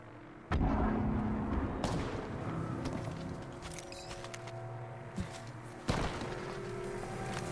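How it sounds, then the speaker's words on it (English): An airstrike in Apex Legends: three heavy artillery blasts hit loud and close, each with a lingering rumbling tail over dense battlefield noise. "Calling the airstrike."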